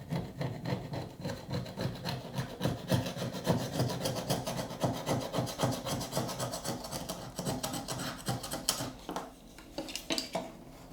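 Plastic corner scraping tool dragged repeatedly across old silicone sealant in a bathroom, producing quiet, rhythmic rasping strokes with faint scuffs and clicks, close by and soft.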